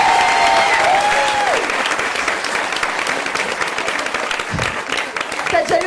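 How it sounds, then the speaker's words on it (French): A stand-up comedy audience applauds in a dense, sustained wave of clapping that stays loud throughout, with a performer's voice speaking over it at the start and near the end. "Je propose qu'on applaudisse Julien"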